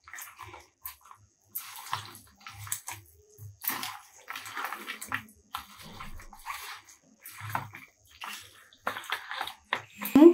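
Water is poured and sloshed into a pot of rice for chicken biryani in a home kitchen, in intermittent splashing bursts with quiet gaps.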